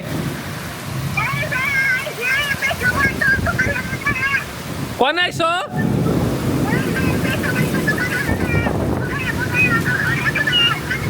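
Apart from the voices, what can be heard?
torrential rain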